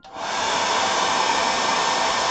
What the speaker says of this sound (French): Hop, c'est l'heure du sèche-cheveux.